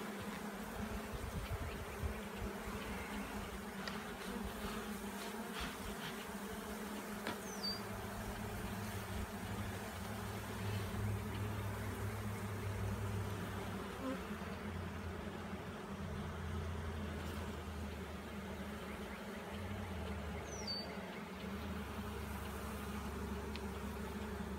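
Honeybees from a swarm-trap colony hum in a soft, steady drone throughout a hive inspection outdoors, with a low mechanical hum surfacing partway through and a couple of faint brief chirps.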